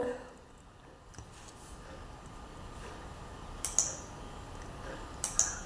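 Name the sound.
typing on a computer keyboard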